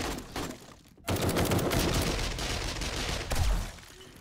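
Sustained automatic gunfire in the zombie survival game 7 Days to Die, a dense, loud rattle of rapid shots that breaks off briefly near the start and then resumes without pause.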